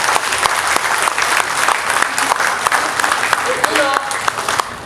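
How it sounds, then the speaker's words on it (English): Attendees at a government oath-taking ceremony break into dense, steady applause, with individual claps popping out of the crowd noise throughout. "Give yourselves a round of applause,"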